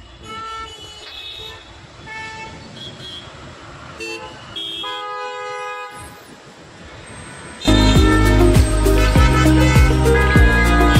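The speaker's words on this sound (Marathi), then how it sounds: "खूप ट्रॅफिक आहे बँड्राला." Busy road traffic in Bandra with repeated car horn toots, then a sudden louder burst of honking and engine noise close by.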